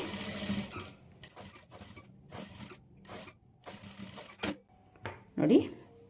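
A sewing machine runs in short bursts of stitching, laying a seam right beside the piping at the neck of a blouse, with pauses between runs and a voice talking over parts of it.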